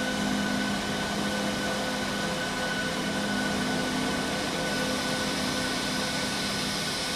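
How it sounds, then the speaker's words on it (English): A Boeing 737 auxiliary power unit spins up in a flight simulator on a rainy day at Indianapolis, heard as a steady, even whine and hum with faint tonal lines, continuous and unchanging throughout, with no talking. "You can hear the APU starting up in the back."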